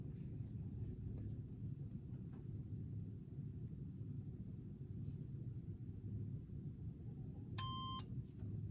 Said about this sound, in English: we'll hear a small ding, similar to the bell on a standard elevator, and the floor will change